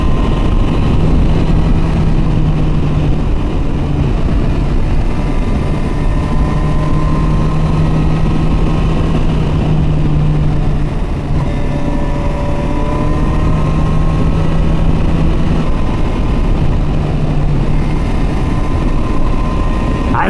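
Continuous engine drone from a Kawasaki Versys 1000 motorcycle on the move, loud and close with a steady hum and wind rush throughout.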